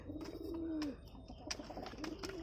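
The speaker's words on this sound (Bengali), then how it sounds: "আজকে সেই কবুতরগুলির বাচ্চা দেখাচ্ছি তোমাদেরকে" Domestic pigeons kept with their young chicks coo in soft, close, repeated rounds, with a few faint rustles and clicks between calls.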